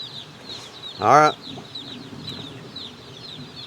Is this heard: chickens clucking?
yes